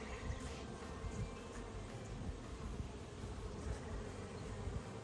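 Honey bees buzz around a hive in a dandelion field, bringing in pollen, a continuous soft droning hum of many insects with no voices.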